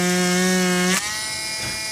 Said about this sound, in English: First step is to Dremel or drill up the impact point